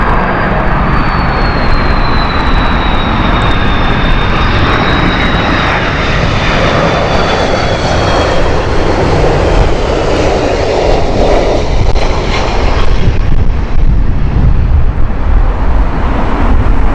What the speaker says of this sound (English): Here is LLG's Airbus A380 200 series.